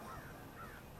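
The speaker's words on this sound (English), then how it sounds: "Oh, there's some birds." Crow-like caws from birds outdoors, a couple of faint, drawn-out calls over steady background noise, heard alone without speech.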